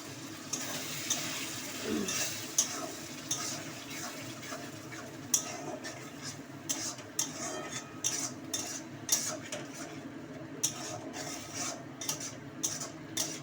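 A utensil stirs and scrapes a wet ground-spice paste mixed with a little water in a metal pan for potato dum, with soft repeated clinks and scraping strokes at an irregular rhythm, close but fairly quiet and without talk.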